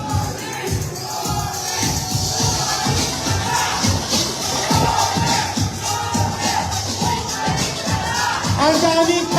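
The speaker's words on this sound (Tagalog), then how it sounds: "Ayan ba ang sigaw ng taong bayan?" A large crowd of fans at a street event in Manila's District 5 shouts and cheers in a loud, dense, continuous roar, with overlapping yells and voices throughout and no lulls.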